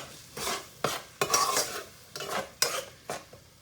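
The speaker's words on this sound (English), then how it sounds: "I'm gonna go ahead and mix this bad boy in there." A spoon stirs beans into a pan of rice cooking in oil: a handful of scraping, clinking strokes against the pan over a soft sizzle, close and alone with no speech.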